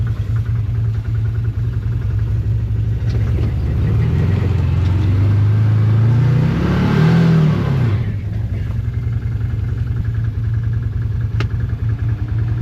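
Can-Am Commander 1000 XT side-by-side plowing snow in a field at night, its engine droning steadily close by and rising in a brief rev partway through before settling back to a steady hum.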